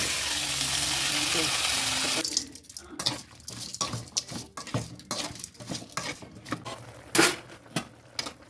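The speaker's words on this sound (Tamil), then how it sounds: "எண்ணெய் ஊற்றியாச்சு கடுகு போட்டாச்சு உளுந்தம் பருப்பு" Mustard seeds and urad dal fry in hot oil in a home kitchen, a steady loud sizzle for about two seconds, then scattered sharp crackles and pops as the seeds burst, with faint stirring.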